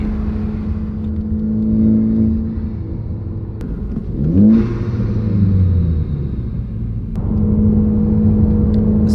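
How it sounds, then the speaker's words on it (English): Ford Focus fitted with an AWE Track Edition exhaust, revving up from a steady idle rumble in one rising, falling rev around the middle before settling back to idle, loud and close with no talk. "let's see what this exhaust sounds like. It's still really loud."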